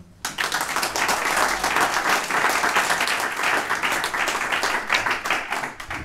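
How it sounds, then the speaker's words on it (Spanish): A crowd at a 2023 election campaign event in Ribaforada bursts into steady, enthusiastic applause that carries on loudly throughout, with no voices. "Es por todo ello que os pido un fuerte aplauso para Pablo."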